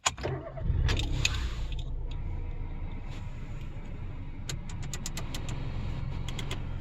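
A 2021 Toyota Aygo with a 1.0-litre VVT-i three-cylinder of about 70 hp and a five-speed manual cranks, catches with a brief rev, then settles into a steady close idle.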